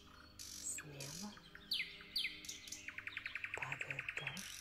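Songbirds in a May forest sing close by, with varied whistles, chirps and a fast trilled series of repeated notes toward the end, heard alone and fairly faint against a quiet woodland background.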